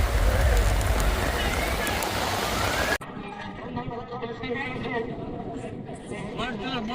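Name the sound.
heavy rain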